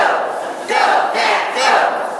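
A crowd rhythmically chanting a Go Pack Go cheer for the Green Bay Packers at a hospital event in Madison, loud massed voices repeating the three-beat chant in steady pulses, close and energetic.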